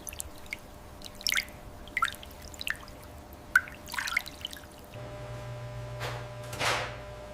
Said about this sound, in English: Water drips off, pooling on the fabric.